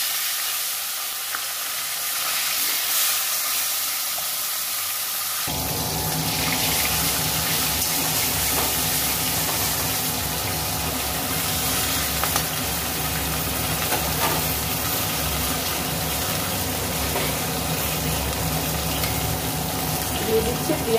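Tilapia fish frying in hot oil in a pan, a dense steady sizzle that starts abruptly after a few quiet seconds and holds loud and close throughout, with a low background rumble.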